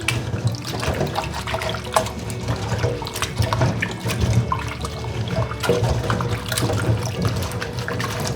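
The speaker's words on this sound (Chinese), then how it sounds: "用2只手这样子搓洗， 也一面把这个面粉给它拌匀。" Slices of lotus root are rubbed and washed with flour in a bowl of water by hand, giving a continuous close sloshing and splashing with small irregular bursts and no talk.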